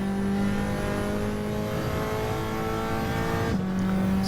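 Race cars roar around the Dragontrail Gardens circuit in a racing video game, a steady loud engine drone holding one pitch, then dipping briefly as a gear shifts near the end before resuming.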